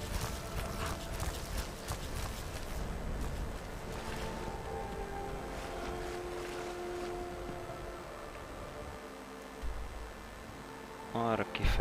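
Faint horse hooves clop along at a walking pace in the video game The Elder Scrolls V: Skyrim, amid ambient background noise, with a short burst of other sound near the end.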